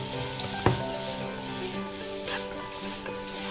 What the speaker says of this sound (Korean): 마지막으로 설탕 1큰술을 넣고 30초 정도 더 볶아줄게요.